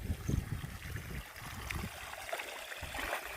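Water runs steadily along a channel in a rice paddy field, a soft continuous trickle and gurgle heard close with no talk.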